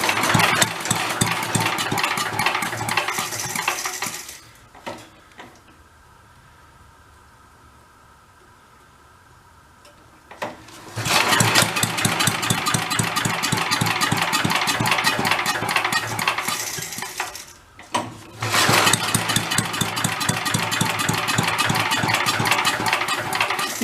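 A vintage Mite-e-Lite generator engine idles with a steady, rough mechanical chugging, loud and close, drops out for several seconds, then restarts and runs on with a brief stumble partway through.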